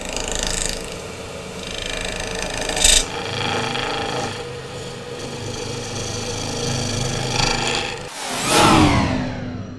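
A wood lathe tool cuts and scrapes away stock in long raspy passes, a gritty rubbing sound that pauses briefly and then resumes, close and fairly loud.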